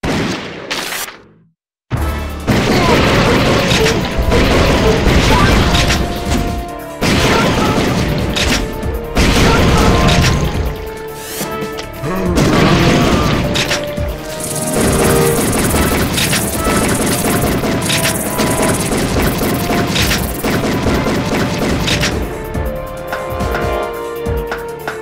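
Gunfire from the arcade shooter The House of the Dead III rings out in repeated loud, sharp bangs and booming blasts over a dense, constant game soundtrack, with a brief silent gap near the start.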